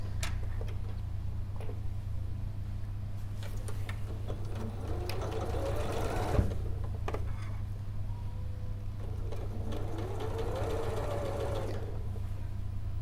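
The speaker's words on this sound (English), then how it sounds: "So I'm sewing all along the side down to the pivot point on the side body piece" Domestic sewing machine stitching fabric along the side of a body piece toward a pivot point, a steady close mechanical whirr with ticking needle rhythm running throughout, swelling in two longer bursts.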